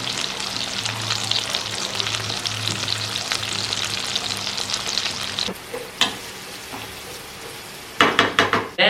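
Chicken poppers fry in a pan with a steady, loud sizzle, then go quieter with a few sharp clatters and scrapes of a utensil near the end.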